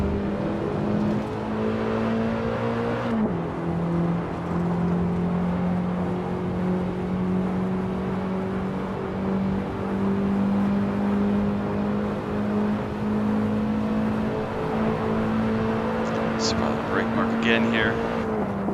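BMW E30 M3 race car engine in Assetto Corsa, lapping Monza, holds a steady high drone through a long pull, with a quick gear change early and a brief tyre squeal near the end; someone commentates over it.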